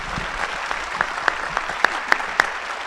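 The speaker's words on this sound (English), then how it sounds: "Now, please join me with a round of applause." Thin applause from a modest audience at a political convention, with scattered individual sharp claps standing out over a quieter background clatter.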